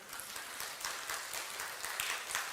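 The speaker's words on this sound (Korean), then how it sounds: "박수 한번 치면 좋은데." A church congregation clapping during a Sunday worship service, a brief faint patter of scattered hands in the room.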